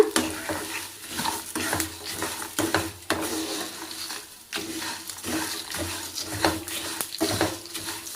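Roasted flattened rice (poha) being stirred in a pan, continuous scraping and rustling with irregular louder scrapes, close and moderately loud with no voices.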